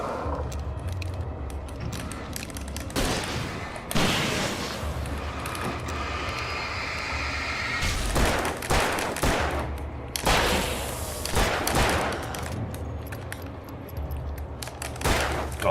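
Gunfire in the video game Alan Wake: repeated loud bursts of shots over a dense, noisy backdrop, with several heavy volleys clustered toward the middle and end.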